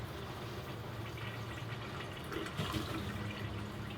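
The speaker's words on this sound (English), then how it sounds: "We'll see if it starts filling up with water, and then we'll also try flushing it out." Fresh water runs steadily into a boat's marine toilet head as it fills, a constant close rush and gurgle with a slight swell near the end.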